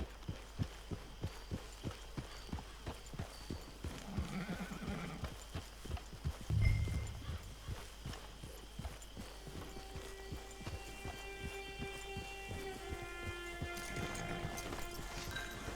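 Steady hoofbeats of a horse in Red Dead Redemption 2 Online clip-clopping at a walking pace, with a brief snort and a whinny midway, over faint ambient noise.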